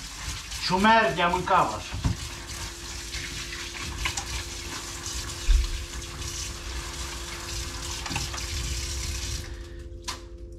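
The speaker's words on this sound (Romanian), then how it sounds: "Să mă spăl pe mână." Tap water runs steadily and softly while hands are washed, with someone speaking briefly over the flow near the start.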